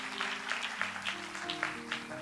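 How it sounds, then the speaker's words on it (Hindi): A church congregation claps hands at a Hindi prayer service, giving soft, steady rhythmic claps about every third of a second, faint and distant under sustained tonal music. "यीशु के नाम से ताली बजा के प्रभु को स्तुति करें।"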